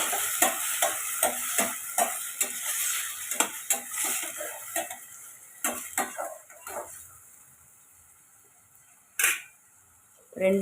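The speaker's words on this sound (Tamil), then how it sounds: "இப்போ இது நல்லா கலந்து விட்டு வதக்கிக்கோங்க." Chopped ripe tomatoes with salt are stirred in a pan, with close repeated clinks and scrapes of a spoon against metal and a soft sizzle, pausing near the end before a few final knocks.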